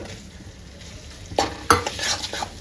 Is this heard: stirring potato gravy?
yes